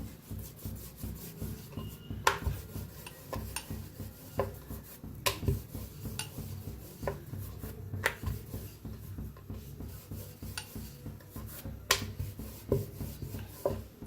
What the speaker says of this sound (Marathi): मस्त एवढं पातळ लाटलेलं आहे.